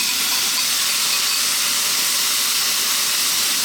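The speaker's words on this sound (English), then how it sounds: "Now we're going to drop in our chicken that we've marinated" Soy, sriracha and fish sauce marinated chicken hitting a very hot wok for chow mein, giving a loud, steady, bright sizzle that hisses continuously and close up without any talk.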